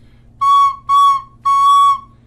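A recorder plays with the thumb hole left uncovered, giving an overly high, pure piping note sounded three times in short, even bursts, clear and close with no voices.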